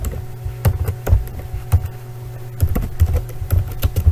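Computer keyboard typing in quick, uneven bursts of sharp clicks, close and fairly loud, with short pauses between runs and a faint steady hum underneath.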